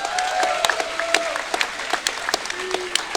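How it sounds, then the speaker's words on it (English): A burst of applause from a kickboxing event crowd, dense clapping with a few voices mixed in, heard briefly. "let's give him a round of applause"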